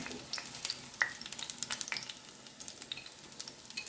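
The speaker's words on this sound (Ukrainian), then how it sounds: "А тут далі підсмажуємо." Meat patties (kotlety) sizzle and crackle in a frying pan, a steady close frying hiss broken by small sharp pops throughout, with no voices.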